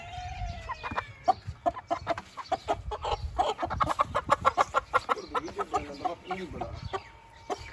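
Village hens and roosters from Mianwali cluck in a steady, overlapping chorus of short calls that grows busier toward the middle, fairly close and moderately loud, with faint voices in the background.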